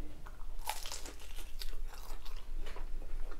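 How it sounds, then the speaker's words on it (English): Crisp crunching bites into battered cod pieces, close and clear, with several sharp crackles followed by steady chewing and no talking. "these are cod bites, so it's like pieces of cod in batter. Beautiful, they are lovely and crisp."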